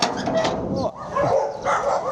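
Several dogs at a house bark and yip in short, close bursts that overlap with people talking nearby.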